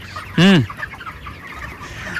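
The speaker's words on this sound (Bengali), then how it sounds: "আর এই যে পাখিগুলো খাবার খাচ্ছে বন্ধু, হ্যাঁ খাবার খাচ্ছে।" Broiler chickens feeding on a village poultry farm, one loud close rising-and-falling squawk followed by softer scattered clucks and chirps from the flock, no voices.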